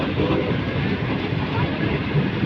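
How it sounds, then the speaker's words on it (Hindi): The Bahauddin Zakariya Express 25UP rumbles steadily as the train runs, heard from inside with a continuous broadband roar and faint rhythmic clatter, with no talk. "ट्रेन"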